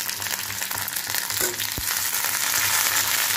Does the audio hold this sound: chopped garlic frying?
yes